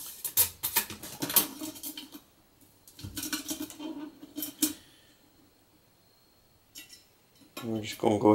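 A 12 centimeter cook pot holding a cup of water is set onto an alcohol stove, giving a few close metallic clinks and scrapes in bursts, separated by quiet pauses, with a louder clatter at the end.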